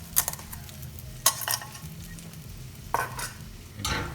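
Two well-beaten eggs cook over very low heat in a pan while a utensil pushes them around, giving four distinct scraping strokes over a soft, steady background sizzle, close by with no talking.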